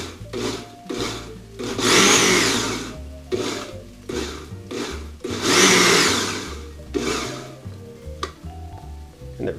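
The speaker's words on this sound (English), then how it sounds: "we add it to our processor. We give it small chops." A food processor chops ingredients for bolognese in a series of short whirring pulses, with two longer, louder bursts among the brief chops, all close by.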